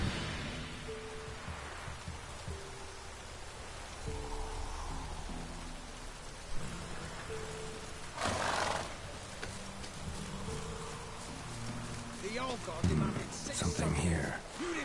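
Roach, a horse in The Witcher 3 video game, neighs and clip-clops amid steady rain, with a brief louder whinny burst near the middle and more movement toward the end, under occasional talk.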